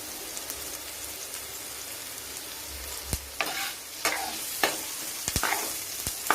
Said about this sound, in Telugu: బ్రౌన్ కలర్ వచ్చేదాకా వేయించాలి